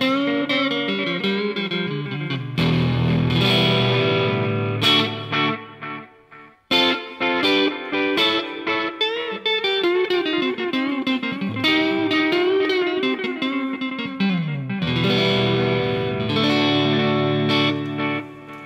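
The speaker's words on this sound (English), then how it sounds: "with the actual reverb coming into play on this pedal" Electric guitar chords played through a Caline Ghost Rain reverb/delay pedal ring out drenched in reverb and delay, notes smearing and trailing into long washy echoes with a brief pause midway.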